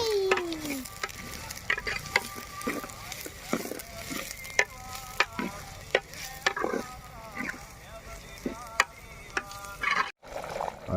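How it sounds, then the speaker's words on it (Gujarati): Onion tempering for a brinjal dish sizzling in hot oil, a constant close crackle with frequent clinks and scrapes of a spoon against the pan, a short break near the end. "ડુંગળીનો વઘાર ચાલુ કરી દીધો"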